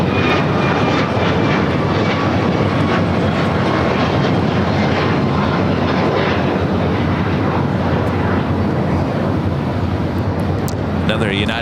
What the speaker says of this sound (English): Another United 757 at 300 touching down here on the south side to 25 left.